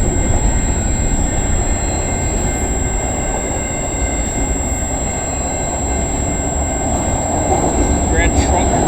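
A freight train of stacked and racked intermodal cars rolls past a street crossing in London, Ontario, with a loud, continuous rumble of wheels on rail and a faint high wheel squeal near the end.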